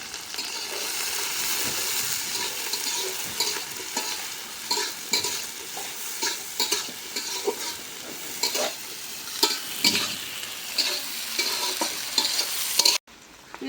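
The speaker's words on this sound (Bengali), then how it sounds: "পেঁয়াজ মরিচ ভেজে নিলাম" Onion and green chili frying in oil in a pan, a steady close sizzle with repeated scraping and stirring strokes throughout, fairly loud, no voices.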